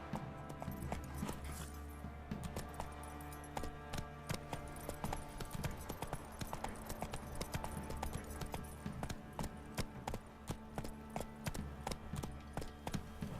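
Roach, the horse in The Witcher 3, gallops steadily with a quick, even clip-clop of hooves that runs unbroken and close throughout, over a low bed of game ambience.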